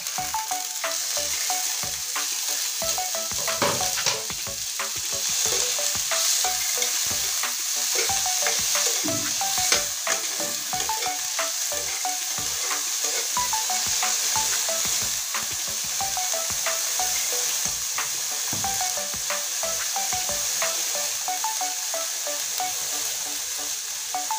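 Onion and tomato go into hot oil with browned garlic and fry with a loud, steady sizzle for a long stretch, with occasional stirring clinks and scrapes nearby and no voices.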